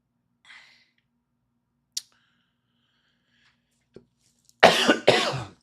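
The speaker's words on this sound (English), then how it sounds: "I just started coughing out of nowhere." A person coughs twice in quick, loud succession near the end, after a few faint clicks and small rustles in otherwise quiet surroundings.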